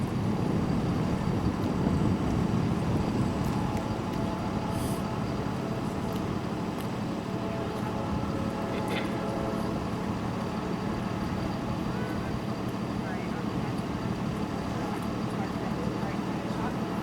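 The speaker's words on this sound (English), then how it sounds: "the hearse has just arrived on scene. He's pulling in right now." At a high school mock crash scene, a hearse pulls in under a dense wash of idling engines and vehicle rumble, with a steady mid-distance drone and faint scattered clicks.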